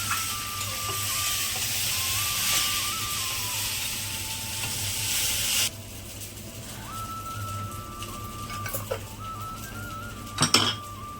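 Sauce with vinegar and soy sauce stirred in a pan: a soft steady sizzle with a faint running tone, dropping quieter halfway, then scattered clinks and a sharp scrape of a utensil against the pan near the end, no talking.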